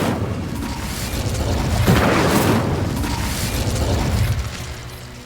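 Incendio fire spell cast in the video game Hogwarts Legacy, a sustained roaring whoosh with a loud burst near the two-second mark, dense fiery rumble holding steady before tailing off.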